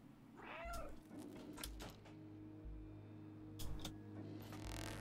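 A cat in the video game Stray gives a short meow near the start, followed by soft game ambience and a few faint clicks and thumps. The whole clip is quiet.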